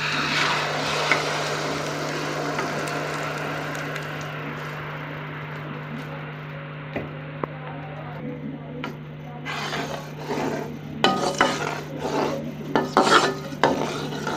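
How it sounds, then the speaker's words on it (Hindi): Jaggery syrup goes into a pan of golden toasted fennel seeds and gets stirred, giving a steady raspy scraping and faint sizzle under a constant low hum, with rougher, louder spoon strokes near the end. "अब हम इसमें ये गुड़ की जो चाशनी है ये डाल देंगे"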